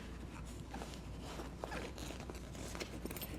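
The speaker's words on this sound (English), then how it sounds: "And I can just zip that up." A backpack's zipper runs along its front quick-access pocket, a quick series of scratchy rasping pulls close by, fairly quiet against a soft room background.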